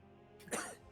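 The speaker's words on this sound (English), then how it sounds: "Kory is sick, that's why he's coughing a lot." A sick person gives a single short cough, close and fairly loud, following a quiet moment.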